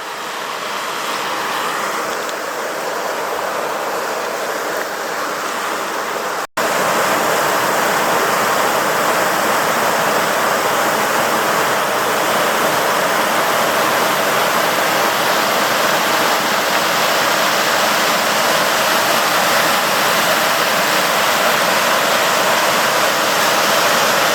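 Steady, loud rushing of the muddy Paposia River flowing nearby in the Wind River Range, a continuous broadband roar of water with a brief dropout early on.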